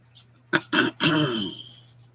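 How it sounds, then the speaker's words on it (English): A man at an auction clears his throat in a few harsh, raspy bursts, the last one drawn out, close and fairly loud over a faint steady hum. "Y'all gonna have to forgive me on clearing my throat tonight."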